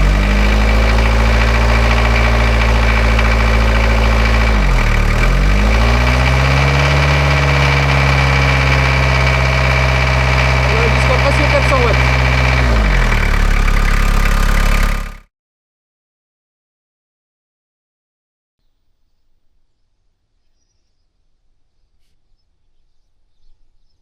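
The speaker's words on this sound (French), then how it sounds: "On va démarrer le véhicule et on va regarder ce qui se passe" A vehicle engine idles steadily and loudly at close range with slight pitch dips twice, then stops abruptly, leaving near silence with faint background noise.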